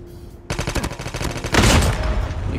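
An AK117 rifle firing in CoD Mobile, a loud rapid automatic burst of evenly spaced shots that swells into a denser, louder stretch of fire, with no talking.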